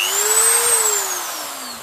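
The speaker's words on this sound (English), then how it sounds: "The Dremel 3000." A Dremel 3000 rotary tool used for battery repair, running loud and close with a high steady whine that rises slightly, then slowly drops in pitch as it winds down, no talking.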